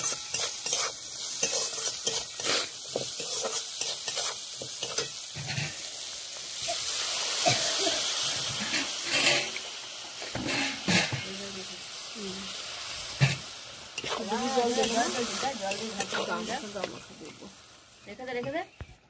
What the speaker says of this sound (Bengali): হলুদ দিয়ে দিলাম, নাড়িয়ে দেবো। মোটামুটি ভাজা হয়ে গেছে